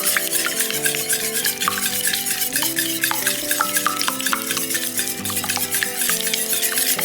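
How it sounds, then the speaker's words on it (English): A wire whisk beats wet cake batter with vanilla extract for a French pear cake, giving quick, steady clicking and scraping strokes against the bowl, fairly close, under continuous background music. "And now it's time to whisk that up nicely."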